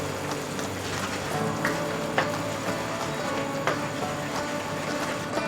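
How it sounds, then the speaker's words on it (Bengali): Tomato puree sizzles softly in a pan over medium flame while being stirred, with a steady low frying hiss and a few light scraping taps of the spoon. "মিডিয়াম ফ্লেমে এই টমেটো পিউরিটা একটু নাড়াচাড়া করে নিতে হবে।"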